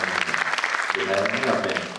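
An audience at a stage performance applauds the performers with steady, dense clapping that fills the short moment, with a voice faintly underneath.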